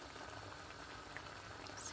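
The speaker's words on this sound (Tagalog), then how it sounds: "Ngayon guys, kumukulo na po siya." Coconut milk and seashells boil in a pot, a steady close bubbling and simmering that runs without a break and with no talk.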